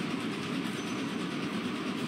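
A train rumbles past in the video game Gang Beasts, a loud continuous rolling roar with a faint clickety-clack, close and steady throughout with no talking.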